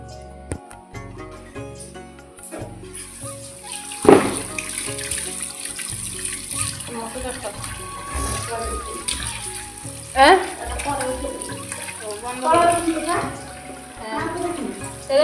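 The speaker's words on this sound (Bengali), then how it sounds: "তো আমি এদিকে মাংসটা ধুয়ে নিচ্ছি।" Tap water runs steadily into a kitchen sink while raw meat is rinsed under it at home, a continuous splashing hiss with clinks and soft handling noises mixed with other background sounds.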